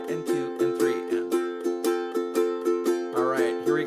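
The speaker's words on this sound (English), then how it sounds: "what we call a shuffle pattern because I'm swinging the notes" A ukulele strummed in a swung shuffle pattern, with steady long-short chord strokes in a lilting rhythm, close and clear with no voices.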